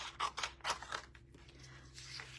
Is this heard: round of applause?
no